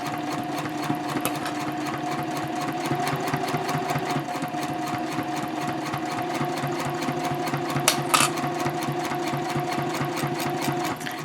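A sewing machine stitches a fabric messenger bag, its rapid, even needle chatter running steadily and close, easing around a rounded edge with a couple of brief louder clacks partway through.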